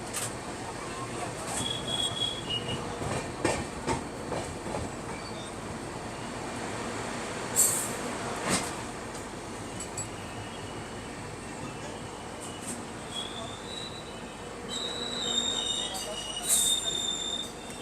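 Shatabdi Express departing Jolarpettai Junction, wheels squealing and carriages rumbling in a steady continuous wash, with occasional sharper screeches and some faint voices in the background.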